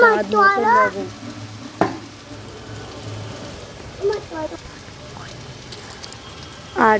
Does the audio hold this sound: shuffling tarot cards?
no